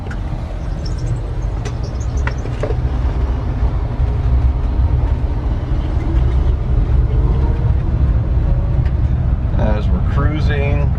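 A 1978 Dodge truck pulls onto the highway, its heavy low engine rumble and road roar steady and close throughout, with a voice talking over it near the end.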